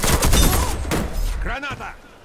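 A grenade blast in the shooter Warface during a ranked match, a loud burst of gunfire-like crackle up front that tails off, with a player talking over it.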